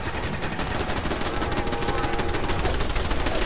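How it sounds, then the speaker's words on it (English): Gunfire in Fallout 4 during a castle defense, a steady rapid stream of loud shots running continuously throughout, with a voice faintly underneath. "I'm just gonna shoot."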